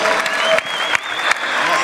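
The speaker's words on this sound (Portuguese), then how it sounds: "Come on, put your hand together, people." A church congregation applauds, a dense, steady patter of many hands clapping at close range that continues throughout, with a few louder claps breaking through.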